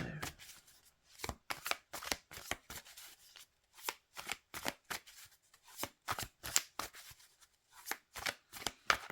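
Tarot advice cards are shuffled by hand in quick, rhythmic riffling bursts, close and crisp, with short pauses between the bursts and no voices.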